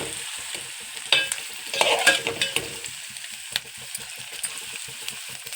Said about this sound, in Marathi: आता टाकू हिरव्या मिरच्या त्याच्यात ते आपण हलवून घेऊ ते आपण थोड्याशा परतून घेऊ